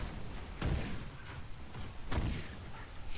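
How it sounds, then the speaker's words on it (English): Two heavy booming blasts from an explosion spell in the video game Dragon Age Inquisition, cast by a mage, arrive roughly a second and a half apart, each a loud low thud with a crackling tail over a steady game background. "I love just going boom, boom with my explosion."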